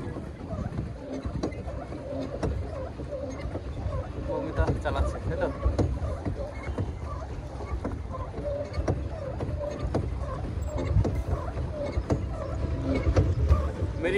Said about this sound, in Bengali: মিরিক লেকে আমরা এখন স্পিড বোট চালাচ্ছি।